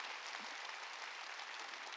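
A church congregation claps together during a Wednesday worship service, a steady dense wash of applause held at an even level for the whole stretch with no voices over it.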